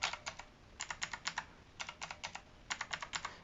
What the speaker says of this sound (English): I'll do 3 clicks on this and then 3 clicks on these.